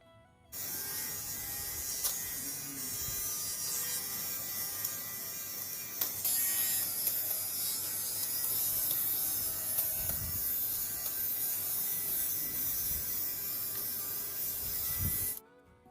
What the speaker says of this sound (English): See how nicely it's working. It's removing all the lints and making the fabric